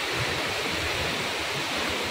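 Thoseghar waterfall in Satara roars as a dense, continuous rush of falling water, loud and close, with no pauses or voices.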